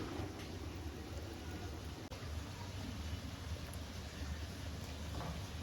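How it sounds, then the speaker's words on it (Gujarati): A dense, steady hiss of rain pours down without pause, with a faint low rumble underneath and no voices. "વરસાદની સ્પીડ વધી ગઈ છે એકદમ અંધરાધાર વરસાદ થઈ ગયો છે"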